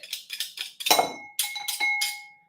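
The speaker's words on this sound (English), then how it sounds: "we're going to add that to our bowl, our minced garlic" Minced garlic is scraped into a bowl with a utensil, making a series of short bright clinks and taps against the bowl, close and clear with faint ringing between strikes.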